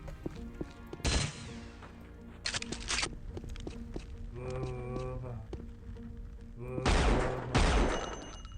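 Weapon fire in the Unreal Gold PC game, a few sharp separate blasts among footsteps and electronic game tones, with a louder pair of shots near the end.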